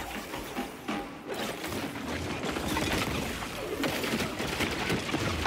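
Rapid bursts of pulse rifle fire in Destiny 2 PvP, a dense, steady rattle of repeated shots with mechanical clicks running through the whole stretch, close and fairly loud.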